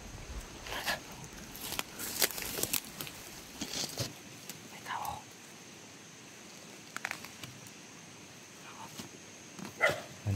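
Dog barking outdoors in scattered sharp bursts, some near and some farther off, with faint background noise between barks.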